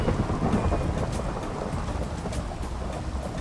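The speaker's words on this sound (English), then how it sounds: "I believe this is a thunderstorm" A Minecraft thunderstorm rumbles with heavy, steady rain and low thunder, the downpour loud and constant throughout.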